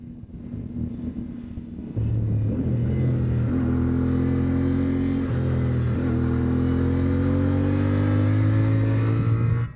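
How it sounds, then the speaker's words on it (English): A CFMOTO Ibex 450 trail motorcycle engine idles steadily and smoothly nearby, its hum rising slightly in pitch partway through and holding a constant drone. "Wow, the engine is really smooth."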